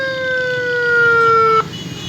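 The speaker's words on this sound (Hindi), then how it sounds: "परे हो जाओ ना यार, एम्बुलेंस को रास्ता दो।" Ambulance siren wailing loud and close on a blocked road, a steady tone with strong harmonics that cuts off abruptly near the end, leaving only road noise.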